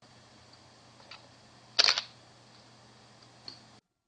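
A single-lens reflex camera fires its shutter once, a crisp, close mechanical click in a quiet room, with a couple of faint ticks around it.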